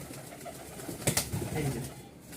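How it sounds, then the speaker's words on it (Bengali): Two Hatbaji pigeons give a soft burst of cooing and fluttering close by, against faint background noise. "এই হচ্ছে দুইটা হাতবাজির কবুতর।"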